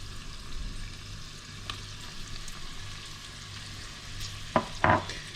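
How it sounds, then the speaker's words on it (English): Anchovies are stirred into a sautéing onion mixture for cream of mushroom soup, a quiet sizzle with soft spoon scrapes and two brief sharper clinks near the end. "as I stir this, the anchovies are going to disintegrate into the onion mixture"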